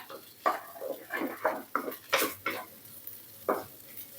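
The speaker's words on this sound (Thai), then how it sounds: "ผัดไฟแรงๆค่ะ ให้เขาแตกโปะเปะโปะเปะออกมาเลยค่ะ" Day-old leftover rice stir-fried hard over high heat in a pan, a spatula scraping and clanking against the metal in irregular bursts about every half second, close and fairly loud over a quiet sizzle.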